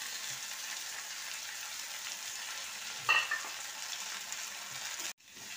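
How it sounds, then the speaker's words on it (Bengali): Small pieces of boiled chicken frying in a pan: a steady, close sizzle with one brief scrape of a stirring utensil midway before the sound cuts off abruptly near the end. "এবার এটাকে আমি খুব ভালোভাবে ভেজে নিচ্ছি।"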